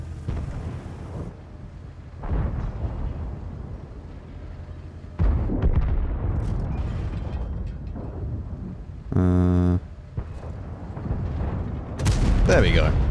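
Tank guns booming in World of Tanks with the Foch B, several heavy blasts and rumbling impacts spread across the stretch, with a distorted tonal burst near the end and talk mixed in.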